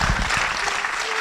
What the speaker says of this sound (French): applaudissements si vous voulez bien